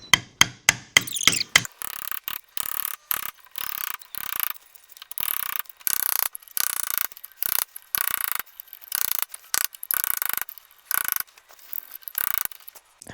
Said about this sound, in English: Now it's time to chisel out this whole section till it meets the underside of the groove.